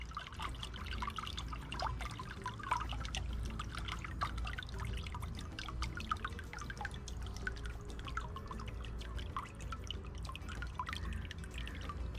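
Water filling an old lily pond trickles and drips steadily, a soft, continuous patter of small splashes with a low rumble beneath, faint and unbroken throughout.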